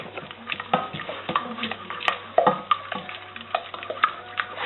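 Eggs being stirred as they cook in a pan, made creamy, with repeated scraping and tapping strokes in an irregular rhythm over a faint sizzle, close by and without talk.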